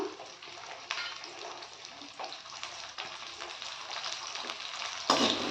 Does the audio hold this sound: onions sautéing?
yes